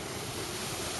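A waterfall beside a lake gives a brief, steady rush of falling water, a dense close hiss with nothing else over it.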